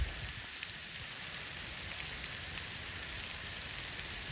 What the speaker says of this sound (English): here comes the rain again.